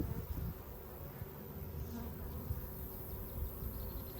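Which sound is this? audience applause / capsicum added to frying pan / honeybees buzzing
honeybees buzzing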